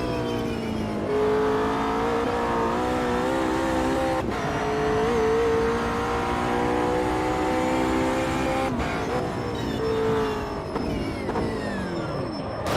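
A McLaren GT3 race car in the Automobilista 2 sim racing game, engine droning loud and steady with rising revs and several sharp downshift blips, heard alone and close.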